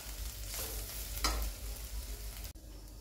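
Water chestnut flour vermicelli fries in a pan with a soft, steady sizzle, broken by scraping stirs and a sharp knock near the end. It is quiet and close, with no speech.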